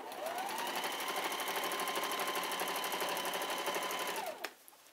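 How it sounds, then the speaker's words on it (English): A sewing machine top-stitches all the way around a vintage-style apron. Its fast, even needle rattle runs steadily for about four seconds, then stops abruptly with a small clunk. "Now I'm just going to top stitch all the way around."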